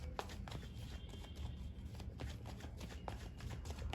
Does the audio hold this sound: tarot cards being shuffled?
yes